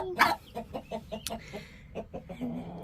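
Chickens and turkeys on a backyard farm clucking in a quick series of short, close calls, with one louder squawk near the start and a sharp high chirp partway through.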